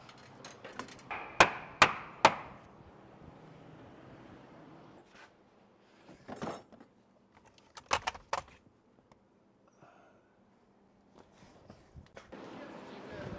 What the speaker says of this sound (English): I'm gonna hammer in all the sides